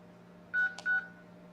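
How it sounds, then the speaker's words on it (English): Two short touchtone DTMF keypad beeps entering a PIN on a phone, clear and evenly spaced with a soft click between, over a faint steady hum. "Using your touchtone phone, please enter your PIN number."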